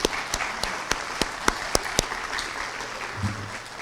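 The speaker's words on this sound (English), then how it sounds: "Give yourselves a round of applause." Sparse, scattered claps from graduating early college scholars at a school celebration, a handful of distinct sharp claps spread across a few seconds with a low murmur beneath, thinning out toward the end.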